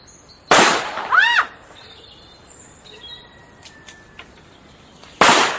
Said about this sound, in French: Je vais l'abattre avec mon revolver.